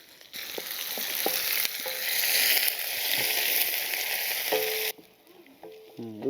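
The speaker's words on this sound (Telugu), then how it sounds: "ఉల్లిపాయ పచ్చిమిరపకాయ కూడా బాగా వేగిందండి." Onion pieces and slit green chillies fry loudly in a pan with curry leaves, a dense close hiss that runs steadily for about five seconds, then cuts off abruptly, leaving a few faint clinks.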